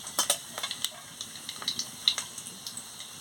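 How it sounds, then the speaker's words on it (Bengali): Cumin and five-spice fry in hot oil in a pan, giving a faint, quick crackle of pops and spitting sizzles over a soft hiss. "দিয়ে মশলাটাকে ভালো করে ভেজে নিচ্ছি"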